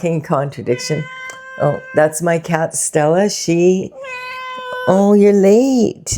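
A house cat meows repeatedly, loud and close, with drawn-out rising and falling calls mixed in with a person talking.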